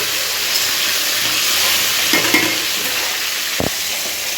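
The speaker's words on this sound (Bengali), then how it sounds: "এখানে আমি মাছ ভাজা বসিয়েছি একদিকে আর একদিকে হচ্ছে যে এখানে এই যে সিম আলু ভাজা হচ্ছে" Fish frying in one pan and bean and potato frying in another make a steady, broad sizzle throughout, with a few light knocks from utensils and no speech.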